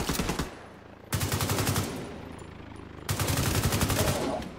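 Rapid automatic weapon fire in the video game The Division 2, three loud close bursts of dense gunfire separated by short lulls.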